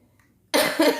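A woman recovering from bronchitis gives a sudden loud, harsh cough after a near-silent moment, with a second burst following closely.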